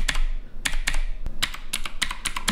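Fast typing on a Razer BlackWidow V3 mechanical keyboard, loud sharp clicky keystrokes in quick irregular bursts, close up with no voices.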